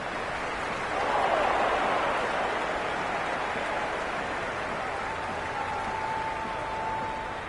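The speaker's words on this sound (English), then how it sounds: "The crowd are really getting quite raucous." A large cricket stadium crowd at an India versus Pakistan T20 World Cup match roars in a steady, dense wash of distant noise, swelling briefly and sustained throughout without clear individual voices.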